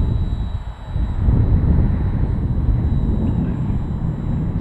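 A cheap RC model airplane stabilized by a CC3D flight controller flies with a steady, loud propeller buzz and wind rush, running continuously from start to finish with no voices.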